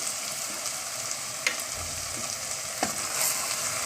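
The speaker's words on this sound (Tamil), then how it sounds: "நல்லா வதக்கி விட்டு இந்த மாதிரி நல்லா கிளறி விட்டுருங்க." Chopped vegetables, peas and salt frying with softened tomato in a pan for bread brinji rice, a soft steady sizzle with a couple of sharp spoon scrapes, close and even.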